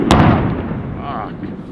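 Coastal artillery gun live firing at a gunnery range on a headland, a single sharp distant boom that rolls and echoes away, with people talking over the tail.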